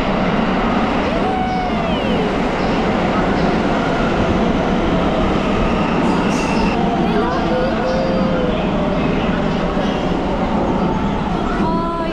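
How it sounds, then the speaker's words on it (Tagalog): The Hello Kitty train pulls into a station in Kyoto, Japan, with a loud, steady rumble and rail noise that fills the whole stretch. Voices chatter over it. "The Hello Kitty train."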